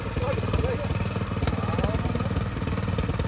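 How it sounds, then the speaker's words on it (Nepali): A tractor engine labours uphill toward an upper rice field during paddy planting in Palungtar, Gorkha, with a steady, loud, rhythmic chugging throughout and faint voices underneath. "अब ट्र्याक्टर माथि उकाल्दै अब माथिल्लो गरामा"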